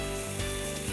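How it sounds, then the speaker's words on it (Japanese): Clams stir-frying in a hot pan of sesame oil with chopped chives make a dense, close sizzle that runs continuously without pause, while a low steady hum sits underneath and no voices are heard. "長ネギと赤唐辛子も加えてさらに炒めましょう。"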